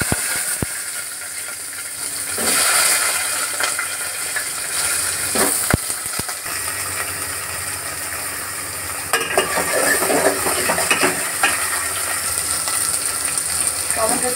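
Vegetables hit hot oil with panch phoron, dried red chillies and bay leaf, sizzling loudly and close, with bursts of stirring and scraping as the frying swells and settles; no one speaks.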